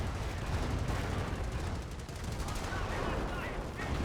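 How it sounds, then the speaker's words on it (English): A .30 cal machine gun firing in the World War II strategy game Company of Heroes: rapid rattling bursts amid a thick mix of gunfire and explosions, continuous and fairly loud. "30 cal still firing away."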